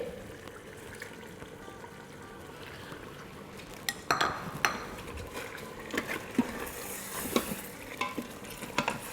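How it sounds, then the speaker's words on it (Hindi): Mutton pieces fry with spices in a pan for street-style haleem, a steady low sizzle with scattered clinks and scrapes of stirring that grow busier halfway through, close and moderately loud with no talk. "तो यहाँ 2-3 मिनट हो गए मसालों के साथ भूनते हुए गोश्त को।"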